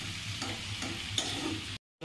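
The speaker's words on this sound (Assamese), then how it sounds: "গৰম গৰম তেলত পূৰা পুৰি ভাজি গ'ল" Puris frying in hot oil at a roadside eatery, a continuous low sizzle with faint stirring, moderately quiet and steady, cutting off briefly near the end.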